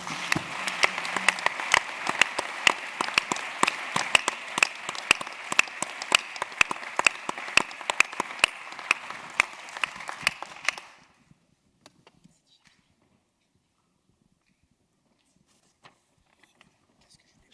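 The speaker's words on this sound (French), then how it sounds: "Et je vais maintenant demander à toute la salle d'applaudir nos victimes et assassins." A theatre audience applauds the actors of a murder-mystery performance with a thick roll of clapping and sharp individual claps for about eleven seconds, then it stops abruptly, leaving near silence with a few faint stray sounds.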